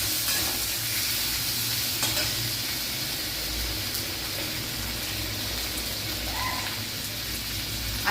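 Ginger stirred in a hot frying pan while cooking methi matar malai: a steady, close sizzle of frying throughout, with soft scraping stirs over it and no voices.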